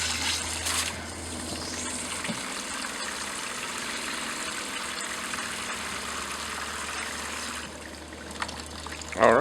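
Pink RV antifreeze runs steadily from an open hot-water faucet in a 2015 Phoenix Cruiser motorhome during winterizing, a continuous close trickle and splash with a low engine-like hum underneath, ending in a brief louder clatter.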